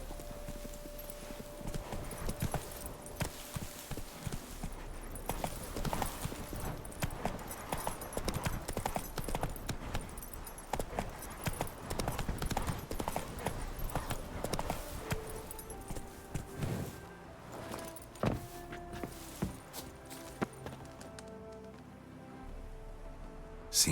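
Roach, a horse in The Witcher 3, gallops with steady, close clip-clopping hooves that run loud and continuous for most of the stretch before thinning out near the end.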